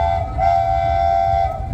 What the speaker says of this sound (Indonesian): Kereta tujuan Pesta Pora Stage akan segera berangkat.